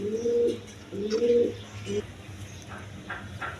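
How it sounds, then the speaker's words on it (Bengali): Healthy pigeons kept for sale give two or three close, throaty coos in the first two seconds, then go quieter, leaving soft background chirps and rustle. "একদম সুস্থ সবল কবুতর"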